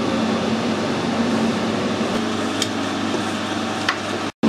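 Metal lathe running with the feed screw engaged for screw cutting a custom fuel tank stub, a steady close mechanical hum and whir with faint ticks, no talk.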